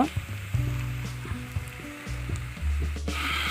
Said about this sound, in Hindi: लंका और पियाज को भलसे फ्राए करदे